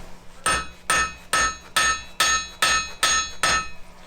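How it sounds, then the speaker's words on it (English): Seven heavy hammer blows on hot metal at a blacksmith's forge, evenly spaced about half a second apart, each a sharp ringing clang that fades quickly, close and loud. "Now I'm turning the hammer around."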